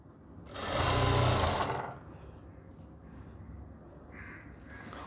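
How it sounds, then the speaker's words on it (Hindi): A sewing machine stitching the lining of a kameez runs in one steady, fairly loud burst of about a second and a half, then stops, leaving a quiet room with faint background noise. "हम इसको ऐसे करके दोस्तों सिलाई लगाएंगे"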